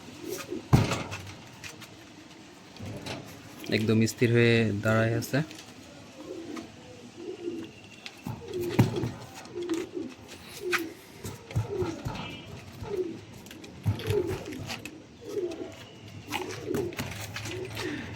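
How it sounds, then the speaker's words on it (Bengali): Teddy pigeons cooing close by, soft repeated throaty coos recurring through the scene while someone talks over them. "সাকিবুল লাইনের দুটি টেডি কবুতর"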